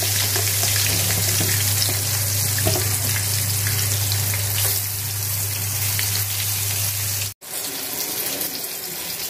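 Eggplant slices fry in hot oil seasoned with chili powder and salt, a dense steady sizzle with a constant low hum, cut off by a brief silence near the end before the crackle resumes.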